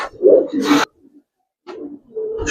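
Silver Giribaz pigeons coo in short, close throaty bursts, with a silent gap between calls and a fainter coo rising again at the end.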